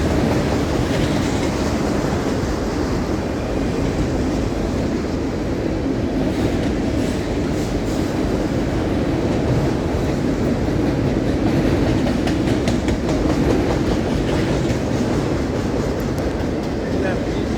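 A continuous heavy rumble and rattle of a long CSX-area freight train with auto racks rolling past nearby, with rhythmic clacking that persists steadily without a break.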